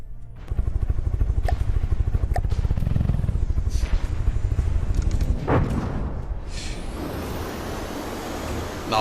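Engine running on a craft in the naval combat game From the Depths, a loud, fast rhythmic chugging with clattering and mechanical whooshes, ending in a rising whine.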